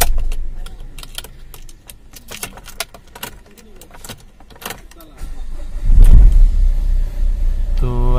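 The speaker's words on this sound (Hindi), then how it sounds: "गाड़ी फिर चालू करते।" Keys jingle near a Renault Duster with an engine misfire fault before the engine is started with the key; the motor catches with a loud low rumble and settles into a steady idle, close by.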